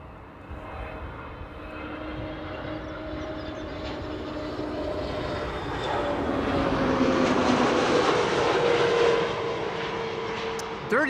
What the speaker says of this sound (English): This is a BA A320 Neo, arriving from London Heathrow.